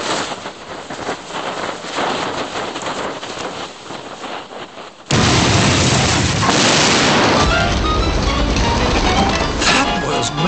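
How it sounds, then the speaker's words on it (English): A caravan packed with acetylene and oxygen blows up in a sudden massive blast that cuts through steady outdoor wind noise and leaves a loud, sustained roar of debris and rumble. "The caravan is filled with acetylene and oxygen, so it should be a bigger bang than we've seen so far."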